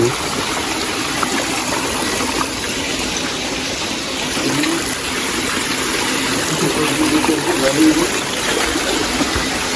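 Constant rushing flow of water, loud and close, with a steady gushing texture and slight surges throughout.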